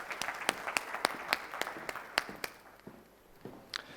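A small audience claps to welcome keynote speaker Dennis Hall at an international address. The applause is fairly faint and thin, with separate hand claps that taper off over a few seconds.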